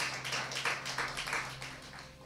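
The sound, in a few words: church congregation applauding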